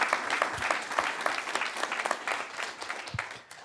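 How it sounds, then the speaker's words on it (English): Audience applause at a panel event on AI held at Howard, a brief burst of moderate clapping from a modest crowd with some individual claps standing out, fading near the end. "Let's clap."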